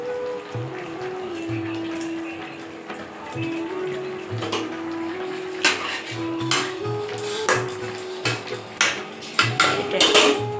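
A lid clinks onto a cooking pot of fish curry, with several sharp metallic clatters against a steady simmering hiss and a background hum, growing busier toward the end.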